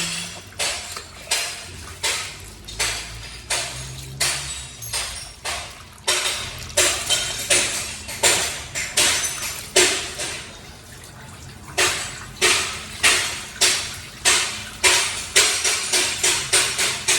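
Hammering from nearby construction of a garage, sharp repeated blows arriving in quick uneven bursts throughout, moderately loud and close, with faint household water sounds underneath and no talk.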